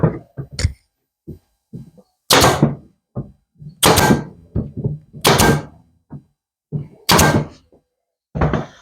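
Nail gun firing 25mm brads into furniture during restoration, a series of sharp close thumps and clacks at irregular intervals, with gaps of silence between bursts.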